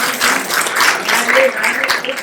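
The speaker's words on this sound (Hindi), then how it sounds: "तालियां" An audience of senior citizens applauds at a meditation talk, with dense, steady clapping from many hands filling the short moment at close, even loudness.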